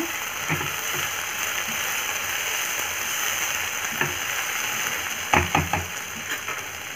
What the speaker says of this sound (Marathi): आता मी झाकण काढत आहे थोडं पण परतून घेऊया